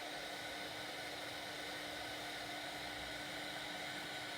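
A craft heat tool blows a steady, loud whoosh of hot air up from under a card to melt embossing powder, constant and unbroken with a faint hum beneath.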